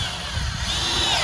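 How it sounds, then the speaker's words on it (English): A power drill drives screws into a wooden brace on a homemade fence gate, giving a steady, continuous motor whir with low rumbling texture that stays at a fairly even, close level throughout. "So now we're going to screw the brace in"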